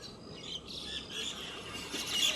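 Birds chirp and twitter at a village bus stand in Shembal Pimpri, a steady busy chorus of small calls close by with no talking.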